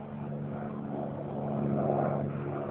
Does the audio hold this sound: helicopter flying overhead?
yes